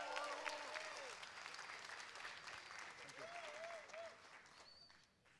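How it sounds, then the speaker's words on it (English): A university audience applauds at a tech event, steady clapping fading over several seconds as a voice talks briefly over it. "A big applause."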